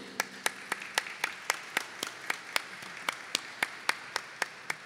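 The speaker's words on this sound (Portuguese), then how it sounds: "Uma salva de palmas para eles." Clapping at a solemn session for the Embrapa José Alencar diploma comes as a slow, regular series of sharp, distinct claps, about three per second, fairly quiet against a hushed room.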